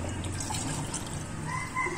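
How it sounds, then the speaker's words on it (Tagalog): Water poured into a bowl of banana cake batter, a steady trickling splash running the whole time at close range and fairly soft, with no talk over it. "So maglagay tayo ng tubig ng isang can at"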